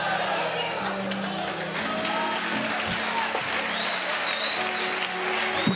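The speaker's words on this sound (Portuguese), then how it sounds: "Por que vocês estão aplaudindo," A church congregation applauding, dense steady clapping that fills the whole stretch, with crowd murmur and voices mixed in beneath.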